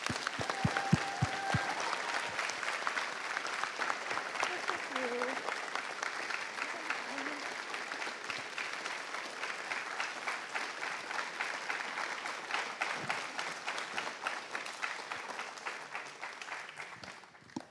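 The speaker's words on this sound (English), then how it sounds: "Let's give them another round of applause." A school audience applauds after a spring drama performance of The Importance of Being Earnest, with long sustained clapping that fills the room and holds steady before tapering off at the close.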